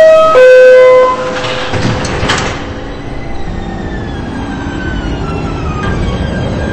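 A New York subway train in the Roblox game Subway Life hums and rumbles as it pulls away, after a brief electronic chime and door closing, with a rising motor whine.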